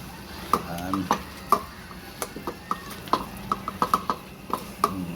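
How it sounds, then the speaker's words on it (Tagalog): Sticky glutinous rice being stirred in a pan for valenciana, with repeated sharp clinks and scrapes of a spoon against the pan in an uneven rhythm over a soft sizzle, close and fairly loud. "Ngayon na ilagay ko ng malagkit ko, ihalo-halo ko na ngayon to."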